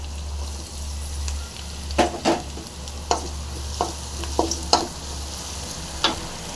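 Mustard seeds, asafoetida and crushed garlic fry in hot oil, giving a low background sizzle broken by scattered sharp pops and crackles, with a steady low hum underneath.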